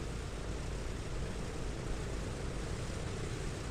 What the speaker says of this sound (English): You can hear our plane all the way over here